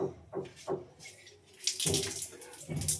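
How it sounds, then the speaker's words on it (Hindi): Water gushes from a newly opened tap during a geyser repair, splashing close by in uneven surges that rise and fall. "नलवा खोलो ना, छुओ छुओ"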